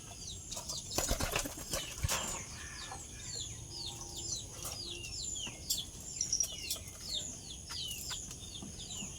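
White pigeons flap their wings in loud, close bursts in a small village farmyard, with repeated chirping and clucking bird calls behind them.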